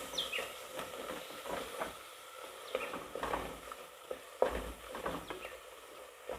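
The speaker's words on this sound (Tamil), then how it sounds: "இப்போ இந்த மிளகாய்த்தூளை சேர்த்து நல்லா வதக்கி விட்டுக்கிறோம்." Chili powder sautéing in hot oil in a pan, with a soft continuous sizzle and repeated scraping strokes of a spoon stirring through it, fairly quiet and close, no talking.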